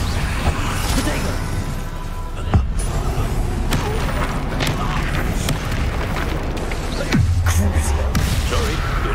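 Bombarda and Confringo spell blasts in Hogwarts Legacy combat, a run of loud, sharp booms and bursts scattered over a busy rumbling mix, with heavier impacts near the start and toward the end.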